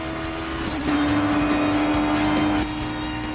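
A Formula Atlantic Ralt race car at Mid-Ohio runs nearly flat out over a hill crest into a fast left-hander, its engine a loud, sustained high-pitched drone that swells briefly before easing.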